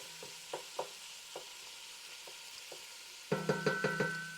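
Pork sizzles in oil in a pan for garlic noodles, a faint steady hiss marked by soft clicks and scrapes, then louder bursts of crackling and stirring near the end.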